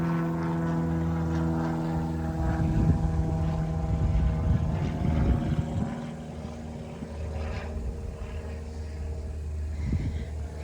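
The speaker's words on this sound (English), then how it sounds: "I don't know if you can see the plane." A low, steady airplane engine drone with a propeller-like hum holds throughout, swelling slightly midway as the aircraft passes over Mission Espada in Texas, with faint ambient noise and no speech.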